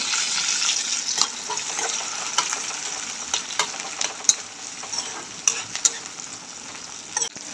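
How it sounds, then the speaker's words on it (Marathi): Cumin, onion and green chili frying in hot oil for Maharashtrian besan pithla, a loud continuous sizzle broken by sharp spatula clicks and stirring scrapes, close up with no voices. "तेल गरम झालेलं आहे जिरं टाकून घेऊ कांदा टाकून घेऊया हिरवी मिरची टाकून घेऊ"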